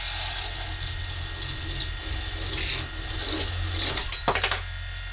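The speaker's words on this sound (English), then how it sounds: "this is my equivalent of the metal cutting bandsaw" A hand tool standing in for a metal-cutting bandsaw works on a rear lower link for a TRX-4 to TRX-6 crawler conversion, giving a continuous scraping, rasping grind with a low hum beneath it.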